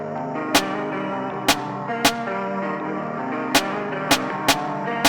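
Sharp snare drum hits punctuate a looping, effected guitar sample in a sampled beat, about seven crisp cracks at uneven spacing over the steady, dense guitar bed.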